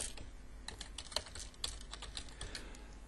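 Quick typing on a computer keyboard while a supplier's name is entered in accounting software, a steady run of light key clicks close by and fairly faint.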